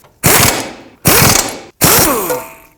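Three bursts of a hand ratchet, close and loud, each a rapid clicking run with brief pauses between, as the ball joint nuts and bolt are snugged up on a 2009-2015 Toyota Prius during a driver's side CV axle replacement.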